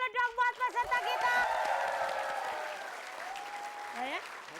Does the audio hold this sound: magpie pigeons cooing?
no